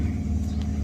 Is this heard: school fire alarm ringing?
no